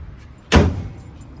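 A passenger door on a lifted 2016 RAM 2500 pickup gives one sharp, close metallic clunk that fades quickly, with only quiet background before and after.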